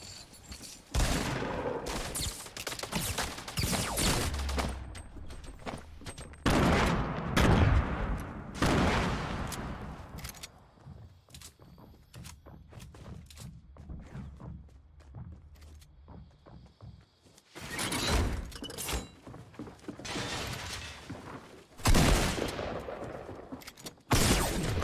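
Rapid game gunfire in Fortnite, with bursts of shots and impacts across a battle, loud volleys early and late separated by quieter stretches with footsteps and scattered distant shots.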